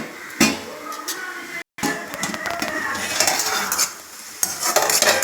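Green chillies being stirred into an okra stir-fry in a pan, with repeated spatula scrapes and metallic clinks over a low sizzle, close and fairly loud.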